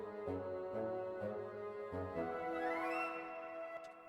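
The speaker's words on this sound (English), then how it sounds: "Just that flute is just beautiful." Orchestral sample-library woodwinds with a flute line, sustained tones and a rising melodic glide playing alone over a few seconds, no talking.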